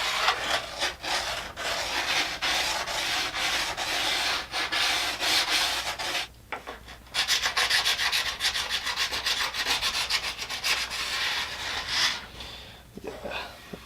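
A file scrapes rust and burrs off a snowboard's steel edge in repeated rasping passes, a dense run of close, rough strokes with a brief pause midway before the rubbing resumes.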